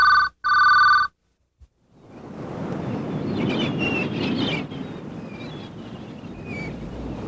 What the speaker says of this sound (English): With Smart Ring from GTE, your phone can tell you who a call is for before you pick it up.